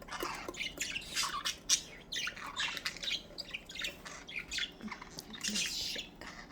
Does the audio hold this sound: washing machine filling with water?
no